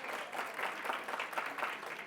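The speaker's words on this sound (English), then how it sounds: "I'd also like to offer a round of applause to Sue." A meeting audience of a gardening association applauds a volunteer, steady, even clapping from a modest crowd, somewhat distant and soft, with no talk over it.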